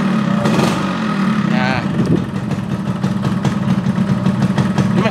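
Yamaha RX King motorcycle with an original two-stroke engine, idling steadily and close by with a buzzing, uneven beat, while people talk over it.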